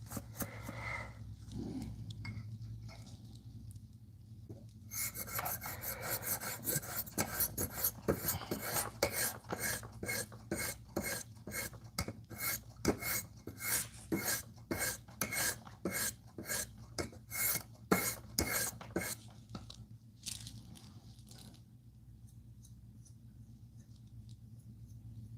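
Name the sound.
knife being sharpened on high-grit sharpening stones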